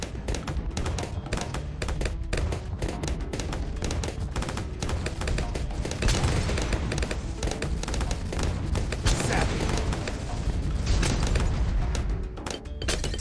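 Bloons being popped in rapid succession in Bloons TD 6, a dense, continuous barrage of sharp pops and bursts with bomb shooter blasts, loud and steady throughout.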